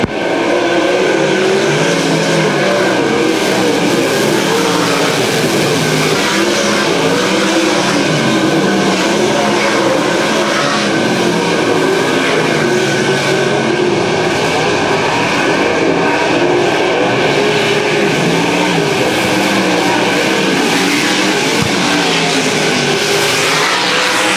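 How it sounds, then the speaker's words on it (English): Sprint cars in an ASCS dirt-track race roar together down the back straightaway, a dense, loud, continuous engine drone that holds steady throughout with no talking. "3 cars under a blanket for the top spot down the back straightaway"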